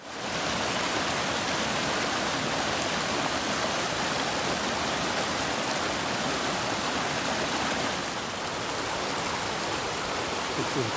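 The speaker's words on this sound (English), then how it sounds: "This is Granite Creek." Granite Creek in Rainier National Park rushes steadily nearby as a dense, even roar of flowing water with no breaks and no voices.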